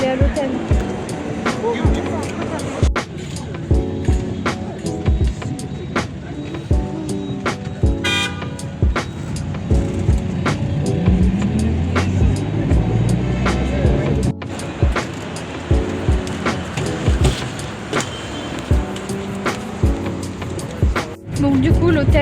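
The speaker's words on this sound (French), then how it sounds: "on va entrer dans le bus là pour aller à l'hôtel" Inside a bus heading to a hotel in India, a steady engine rumble runs throughout with rattles, clunks and short horn toots outside, while people talk over it.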